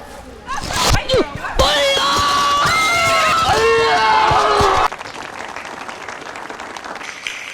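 An audience at a Suresh Gopi election event bursts into loud applause mixed with cheering and shouting voices, then the clapping cuts off abruptly, leaving quieter background noise.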